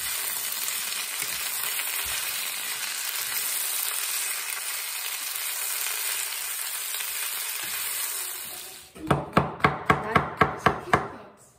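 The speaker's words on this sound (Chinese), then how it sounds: "青菜一定要先炒一下。" Green vegetables stir-fried in hot oil for a Shanghai-style pork and greens noodle soup: a loud continuous sizzle, then a run of rhythmic scraping strokes of the spatula in the wok.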